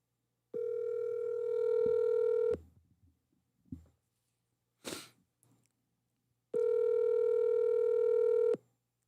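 A telephone call goes out: a steady dial tone, a few short clicks and faint blips, then a second long, loud tone, all close and clear with no one talking.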